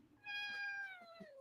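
Mochi, a six-month-old cat, lets out a single clear, drawn-out meow that falls in pitch at the end, close by in a quiet room.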